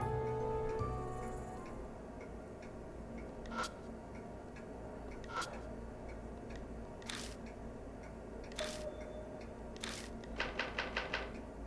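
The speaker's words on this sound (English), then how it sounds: "As I speak the words, the typewriter begins to make sounds on its own." An old typewriter in the video game Spirit Hunter: NG clacks by itself: isolated sharp key strikes spaced a second or two apart, then a quick rattling run of several keys near the end, fairly quiet over a low hum.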